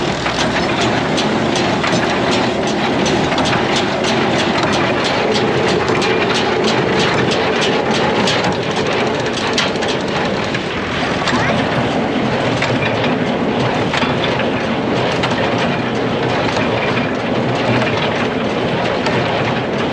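A small hay baler grinds and rattles loudly as it chokes on an oversized, triple-raked windrow of hay, with a dense, continuous mechanical roar and no pauses.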